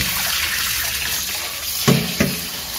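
Tap water runs steadily into a sink while pig intestines are washed a second time, a continuous gush with two short splashy bursts near the end, no talk.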